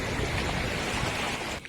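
Floodwater rushes steadily while being crossed during the 2022 Assam flood in West Karbi Anglong. A dense, continuous wash of water noise mixes with wind buffeting, with no voices heard.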